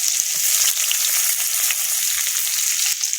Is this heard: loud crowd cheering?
no